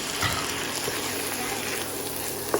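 Pasta water ladled into a pan of warm pesto sauce for a veg and chicken pasta, giving a steady, close watery gush and faint sizzle throughout, with a small splash near the end.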